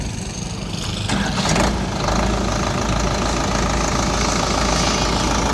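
A Sonalika DI 60 tractor with a four-cylinder engine and a 12-forward, 12-reverse gearbox idles loudly and steadily nearby, a continuous low rumble with an even mechanical knock throughout and no talking.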